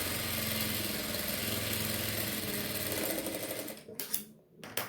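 A sewing machine runs steadily while stitching the hip patti band onto a simple unlined blouse, a continuous close whirring hum that slows and breaks into short stop-start bursts near the end.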